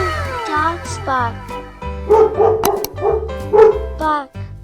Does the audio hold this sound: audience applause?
no